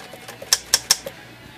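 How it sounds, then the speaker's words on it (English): A Smith Corona 5 series manual typewriter gives three sharp, close key strikes in quick succession, with softer mechanical clicks before and after. "Typical Smith Corona 5 series here, manual typewriter."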